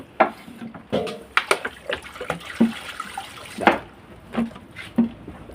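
Water draining off a batch of mung bean sprouts, with several uneven splashes and short pours separated by gaps, each burst close and fairly loud, and no one speaking.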